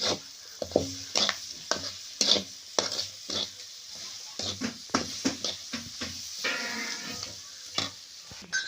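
Cabbage and onion cook in a pan as a dry vegetable dish with turmeric and cumin. A spoon scrapes and knocks against the pan in quick, uneven strokes over a soft sizzle, up close.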